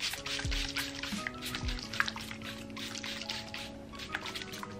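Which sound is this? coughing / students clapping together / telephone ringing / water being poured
water being poured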